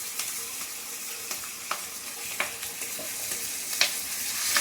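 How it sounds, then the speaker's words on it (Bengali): Panch phoron, bay leaves, dried red chillies, turmeric and green chilli sizzle in hot oil for tempering, a dense continuous frying hiss with small crackles and stirring scrapes, close and steady, with no voices. "পাঁচফোড়ন, তেজপাতা, শুকনো লঙ্কা, হলুদ আর এই যে কাঁচা লঙ্কা ফোড়ন দিয়ে দিলাম।"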